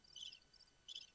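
Cricket chirps used as a comic sound effect: two brief, faint, high trilling bursts about two-thirds of a second apart, with no voices.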